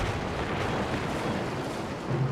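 Continuous dense rumble of rapid gunfire and explosions in the video game Axis & Allies, steady and loud throughout with no pauses.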